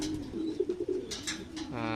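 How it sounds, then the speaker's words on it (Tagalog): Pigeons kept for winter racing training coo softly in a loft, a few low rounded calls pulsing in quick succession, with faint background noise and a brief tonal sound near the end. "Ito yung mga ibon natin, konti pa nga ng mga kalapatids"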